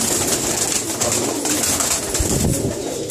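Pigeon hens cooing in a loft, a steady murmur of overlapping coos from several birds close by with a continuous hum of background noise.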